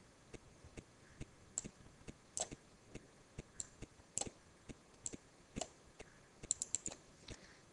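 Faint, scattered mouse clicks from someone working in GP-Pro Ex HMI software, arriving in irregular single and quick clustered taps over a quiet background.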